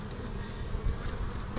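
Honey bees at a West Texas hive during fall splitting after being smoked, a dense low steady buzz that fills the brief moment, close and continuous with no talk.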